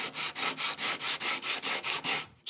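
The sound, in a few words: tapering a wooden marking gauge part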